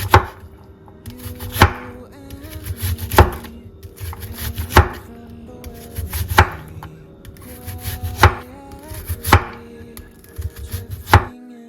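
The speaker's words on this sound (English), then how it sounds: "Let's get chopping." Steady knife slicing a bell pepper on a wooden board, regular sharp thuds about every second and a half, close and distinct over a soft musical backdrop.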